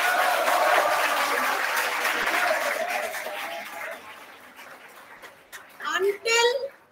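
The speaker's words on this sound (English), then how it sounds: "For that sentence, give a round of applause" An audience at a college guest lecture applauds in a dense wash of clapping that gradually fades out, followed by a few brief voices.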